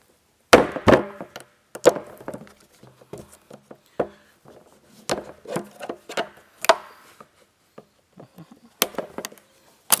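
A flathead screwdriver pries and snaps metal banding off the plastic cap of an emergency water tank, giving a series of sharp, close clicks and knocks spread across the clip with quiet gaps between them.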